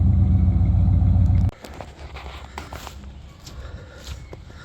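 A truck with a broken exhaust, its engine running with a loud, close, deep rumble that cuts off abruptly, leaving quiet shuffling and light knocks.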